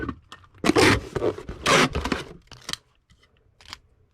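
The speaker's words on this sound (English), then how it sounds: "Go ahead and get it taped up." Packing tape rips and screeches off the roll as a cardboard shipping box holding a VHS tape is sealed, two long loud pulls followed by a few shorter tears and quiet handling, close up, with no talking.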